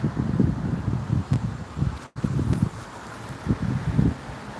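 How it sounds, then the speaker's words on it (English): Gusty wind ahead of a storm buffets the microphone in low rumbling bursts, with a brief dropout partway through before the blustery roar returns. "It's pretty windy out here."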